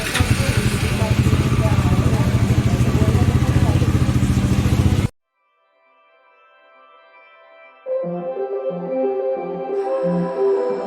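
A super bike motorcycle engine idles loudly with a fast, steady throb and mechanical clatter, then cuts off abruptly, leaving near silence before music comes in.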